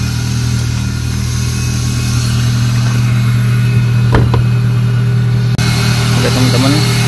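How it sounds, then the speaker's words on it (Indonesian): A 1995 Suzuki Baleno with a manual gearbox idles steadily, a smooth even engine hum with a constant low drone, accompanied by the whir of a cooling fan and a brief knock near the end. "Kita dengarkan suara mesinnya halus banget."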